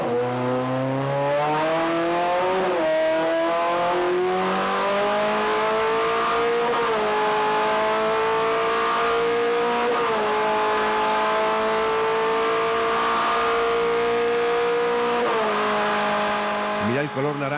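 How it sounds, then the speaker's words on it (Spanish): The V8 engine of a Toyota TS020 Le Mans GT1 car runs on a test bench, loud and close, its harmonic drone rising and falling through several rev changes, with a voice speaking over it. "el banco de pruebas, en el cual están probando ya en este momento el motor del Toyota TS020."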